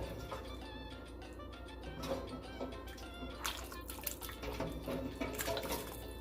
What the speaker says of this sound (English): That's the bones at the bottom of the pan.